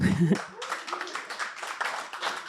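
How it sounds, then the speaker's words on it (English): Audience clapping at a panel discussion meetup in Amsterdam breaks out right after a brief bit of speech, a fairly close, steady patter of many hands that continues to the end. "So let's give her an applause"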